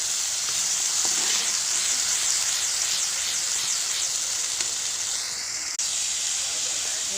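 Onions and a ground spice paste frying in a pan for a small-fish curry give a continuous, loud hissing sizzle that holds steady throughout, with no talking.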